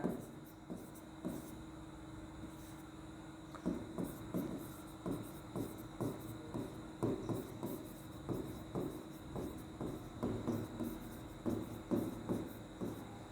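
Pen or chalk writing out a trigonometry proof, a faint run of short rhythmic scratching strokes repeating steadily at close range.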